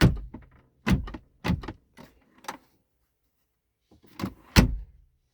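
A car glove box is shut with short, sharp clicks and thumps in a quick cluster, followed after a pause by another pair of latching knocks, close and moderately loud.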